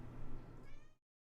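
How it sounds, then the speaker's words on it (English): Mona, a pet house cat, lets out a single short meow close by, rising at the end and then stopping abruptly into silence. "That's our cat."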